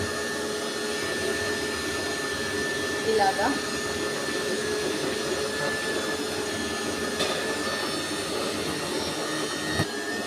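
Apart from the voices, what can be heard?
mixer grinder grinding soaked rice batter ingredients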